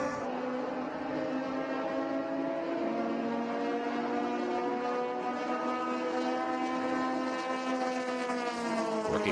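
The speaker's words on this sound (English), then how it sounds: "you can hear the RPM of the engine" High-revving Grand Touring 3 race car engines at Daytona International Speedway whining at a sustained screaming pitch, rising slightly, heard at a moderate distance with no talk.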